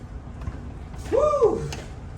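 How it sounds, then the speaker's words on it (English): Unlubricated hinges on a rebuilt garage door give a single drawn-out squeak, rising then falling in pitch, loud and close over a low background hum. "the only squeaky noise you're hearing, are the hinges that we haven't lubricated yet"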